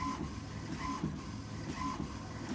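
An HP SmartTank 7001 inkjet printer printing, with a steady mechanical whir and a rhythmic shuttle clatter that repeats about once a second, close and moderately loud.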